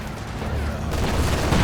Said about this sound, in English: Ooh, big explosion.